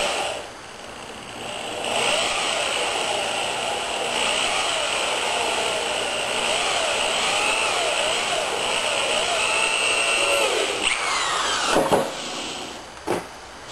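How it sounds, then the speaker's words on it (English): A 1/4-inch drill turning slowly with a counterbore bit, heard as a sustained, close whirring whine for around nine seconds, then a couple of short bursts near the end as holes are finished. "So when I put it to my 1/4-inch drill, I can run it real slow."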